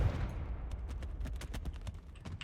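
Confringo fire spell cast in the Hogwarts Legacy video game, heard as a rapid string of sharp crackling blasts over a low rumbling bed, fairly loud and steady for a couple of seconds with no talk.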